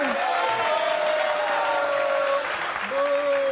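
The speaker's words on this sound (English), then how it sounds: "You ought to applaud him, not boo him." A studio audience on a daytime talk show claps in a steady burst with some crowd noise, while a voice carries over the top.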